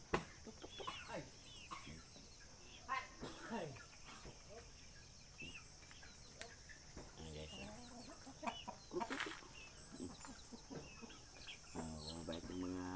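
Backyard chickens cluck and mutter in scattered bursts amid constant insect chirring, with faint speech mixed in and the birds heard at a moderate distance.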